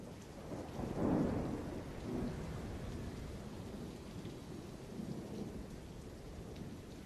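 A desert thunderstorm with rain: a rolling thunder rumble swells near the start, with smaller rumbles after, over a steady hiss of falling rain, heard from a distance and fairly faint.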